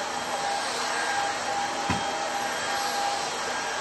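A Kissof S17 cordless stick vacuum cleaner runs continuously with a steady, loud, close whooshing roar and a faint whine, broken only by one brief bump partway through.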